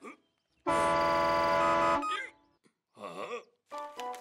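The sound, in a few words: cartoon truck honking its horn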